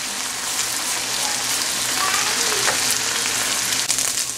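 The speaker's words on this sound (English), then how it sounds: "Stir it continuously like this." Eggs are stir-fried with vegetables for fried rice, giving a loud, continuous hissing sizzle with a soft scrape of stirring throughout.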